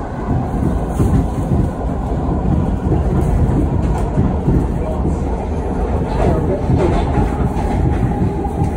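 Philadelphia Market-Frankford Line subway train running, a loud continuous rumble with rail clatter throughout, heard from on board.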